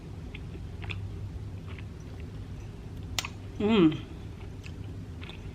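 Someone chews a small hot cocoa cookie mug, soft crunchy bites and mouth sounds close to the mic, with brief speech and one short vocal sound near the end.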